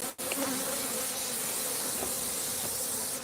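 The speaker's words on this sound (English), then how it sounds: "Killer bees are us." Killer bees swarm around a 20-year-old hive, a dense, steady buzzing drone that fills the space close by with no voices.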